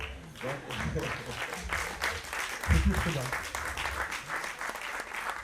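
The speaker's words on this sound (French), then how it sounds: "je vais vous demander de les applaudir avant, comme ça c'est plus sûr." Audience applause for a small jazz-style band of double bass, guitar and drums, a steady wash of clapping mixed with some crowd voices and low rumble throughout.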